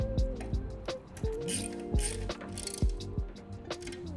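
Ratchet of a socket wrench clicking as an 8mm socket tightens the bolts on an Eco rear rack for an electric bike, several short bursts of close, crisp ratcheting separated by brief pauses.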